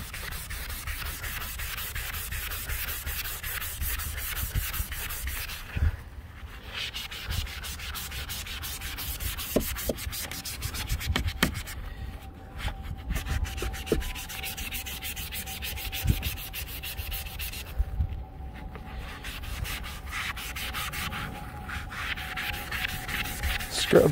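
Magic eraser scrubbed hard against black plastic vehicle trim to lift mold and mildew, a steady close rasping rub running continuously with brief pauses and no talking.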